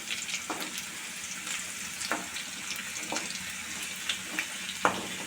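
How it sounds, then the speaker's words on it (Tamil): Curry leaves and green chilies sautéing in a pan, a soft continuous sizzle broken by several light scraping stirs spaced about a second apart, with no voices. "இன்னும் பச்சை மிளகாலாம் கொஞ்சம் நல்லா வதங்கிட்டோம்"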